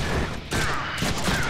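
Rapid bursts of gunfire in the Deadpool video game, several quick volleys crackling one after another with a brief lull in between, loud and close.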